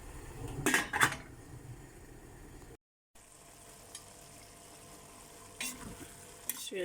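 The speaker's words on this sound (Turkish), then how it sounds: "Altını kısaraktan güzelce pişene kadar kavuracağım." Honeycomb tripe roasts in a pot over low heat with plenty of chili flakes. A spoon scrapes and clatters against the pot in two short bursts of stirring, with a quiet sizzle in between.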